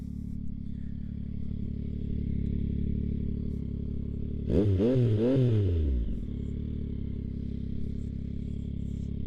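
A 2025 Yamaha MT09 motorcycle revs once, a rising and falling exhaust blip of about a second and a half over a steady, loud idle that continues before and after.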